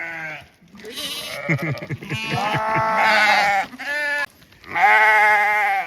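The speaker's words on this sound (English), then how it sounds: "This is our first time putting these sheep into this catch pen" Sheep bleat in a catch pen on a working farm, several animals calling one after another in loud, wavering cries, some overlapping, with short quiet gaps between them and no talking.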